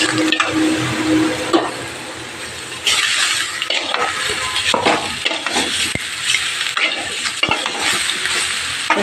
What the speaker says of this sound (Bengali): এবার এটা ভেজে নেব